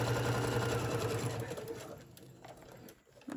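A sewing machine stitches tote bag fabric in a steady, fast whirr that runs loud and close for about two seconds, then slows and stops, with brief small clicks after.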